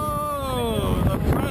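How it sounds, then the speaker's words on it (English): Strong wind rushes and buffets against the microphone on the Night Mares amusement park ride, a loud, continuous roar with a rising and falling whistling tone through it. "Lots of wind."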